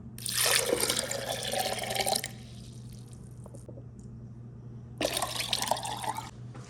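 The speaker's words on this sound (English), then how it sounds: "Now to the blender, I'm adding 2 cups of water." Two cups of water pour into a blender jar in two bursts of gushing splashing, close and fairly loud, with a quiet pause between them and a steady low hum beneath.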